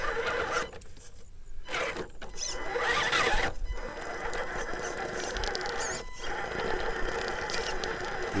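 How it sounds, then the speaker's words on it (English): Red Cat Ascent RC crawler tires spinning and scrabbling for traction while climbing uphill, a steady close whirring and grinding with clicking mechanical noise and brief pauses throughout. "You can hear the tires trying to get traction."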